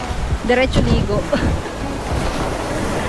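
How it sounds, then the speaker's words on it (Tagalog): Steady, loud wind on a sunny beach buffeting the microphone with surf rumbling underneath, while a person speaks briefly near the start. "sobrang lakas ang hangin, oh. Maaraw lang ngayon pero malakas ang hangin"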